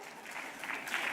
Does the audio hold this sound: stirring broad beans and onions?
no